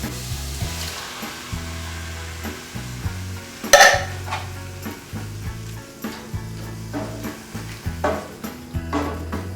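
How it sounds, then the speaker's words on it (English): Canned fire-roasted diced tomatoes hit a hot pan of mushrooms and vegetables for pasta, with a loud burst of sizzle followed by repeated spoon scrapes and clinks as the mixture is stirred, close and rhythmic. "I'm going to throw in a can of fire-roasted diced tomatoes."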